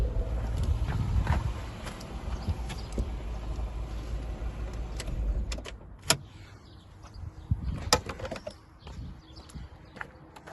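A BMW E46 engine idles with a low steady rumble and then shuts off midway, leaving near quiet broken by a few sharp clicks and small mechanical knocks.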